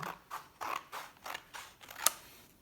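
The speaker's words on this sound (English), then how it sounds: "And then you need to cut along the halfway line." Scissors cutting through a folded paper plate in half, with a steady series of rhythmic creaky snips close up, followed by a sharp click near the end, alone without talk.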